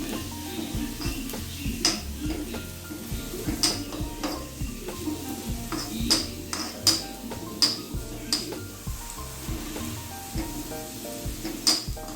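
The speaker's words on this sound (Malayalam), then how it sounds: "ഇത് നന്നായി ഒന്ന് ബ്രൗൺ കളർ ആവുന്നവരെ ഒന്ന് ഫ്രൈ ചെയ്തെടുക്കണം" Small onions and curry leaves frying in coconut oil, a steady sizzle under repeated stirring and scraping, with sharp clinks of a spoon against the pan at irregular intervals.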